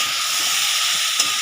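Vegetables fry in a pan with a steady, loud, close sizzle and bright hiss that holds evenly for about a second and a half. A faint tick of utensil contact sounds near the end.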